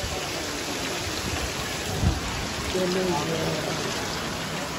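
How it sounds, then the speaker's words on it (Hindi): Heavy rain pours down in a dense, continuous hiss, with a brief thump and a voice speaking under the downpour. "बारिश कुछ ज़्यादा ही तेज़ हो रही है"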